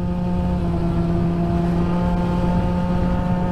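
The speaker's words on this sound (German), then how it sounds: "der Auspuff vom Klang her finde ich den richtig geil" A Peugeot Jetforce scooter engine drones loudly and steadily through its exhaust at about 52 to 55 km/h, a constant low buzzing hum heard up close while riding, no talking.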